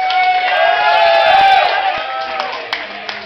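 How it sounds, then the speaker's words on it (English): A lively fashion show crowd cheers and whoops with a loud, sustained roar, harmonic voices and scattered claps running throughout. "Give her a nice round of applause."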